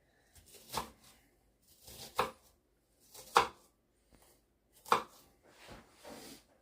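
A knife dices vegetables on a board for split pea and ham bone soup, giving about five separate crisp chops spaced roughly a second apart, close and clear with no talking.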